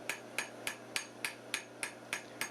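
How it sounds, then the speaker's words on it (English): Light, rapid hammer blows on heated steel stock being slowly twisted while hand-forging a metal hairpin: a quick, even train of bright metallic taps, about three or four per second, close and clear with no talk. "I'm hammering lightly and rapidly while slowly twisting the stock."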